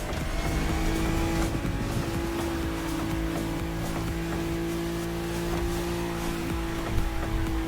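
A Ferrari Testarossa races in The Crew Motorfest, its engine a steady, droning roar amid continuous high-speed road and wind noise, with no voices.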